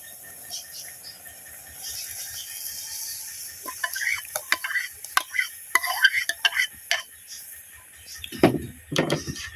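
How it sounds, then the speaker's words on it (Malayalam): Ladle stirring a ripe nendran banana pulissery curry with coconut and yogurt in a pot: scattered soft scrapes and metallic clinks over a quiet background, with a couple of heavier knocks near the end. "ഇനിയും പതിയൊന്ന് നന്നായിട്ട് ഇളക്കി കൊടുക്കണം"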